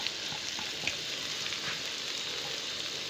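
Green garlic and fresh coriander fry in a pan with an aloo gobi mix, giving a soft, steady sizzle with faint scraping stir sounds throughout, fairly quiet and without talk.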